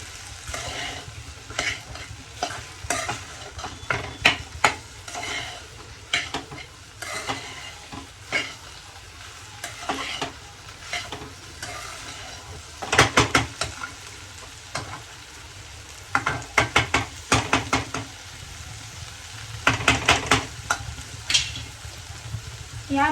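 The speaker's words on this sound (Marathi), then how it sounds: "हे आपल्याला खालीवर करून पूर्ण मसाला भेंडीला लागेल अशी ट्राय करायची" Okra being stirred with spice masala in a frying pan, a spatula scraping and turning the pieces in repeated bursts over a steady sizzle, close and fairly loud with no talking.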